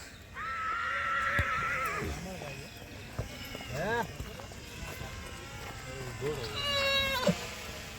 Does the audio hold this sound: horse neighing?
yes